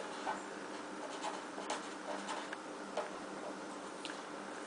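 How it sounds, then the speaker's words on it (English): Soft tapping and scratching of a pen writing a name onto paper pattern pieces, close and faint over a steady background hiss, with small irregular strokes and taps. "you can write her name right on there so you know who the shirt"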